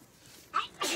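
A short, close sneeze bursts out sharply, followed almost at once by a second explosive burst.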